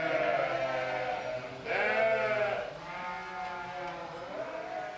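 Sheep on a Tuscan sheep farm in the hills near Rufina bleat in long, wavering calls that overlap into a near chorus, close and fairly loud, with one stronger bleat in the middle.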